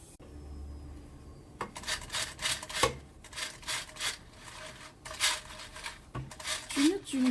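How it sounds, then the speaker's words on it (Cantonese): Cashews being stirred and shaken in an air fryer basket partway through roasting at 200 degrees, a series of close rattling, scraping rubs in bursts, with occasional voice underneath. "轉一轉佢，喐一喐佢先。"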